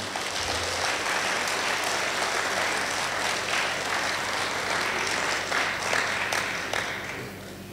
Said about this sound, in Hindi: और एक बार अपने लिए आप ताली बजाइए, ख़ुद अपने लिए